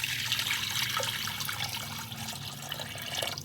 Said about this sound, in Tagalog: Tapos maglalagay na po tayo ng tubig.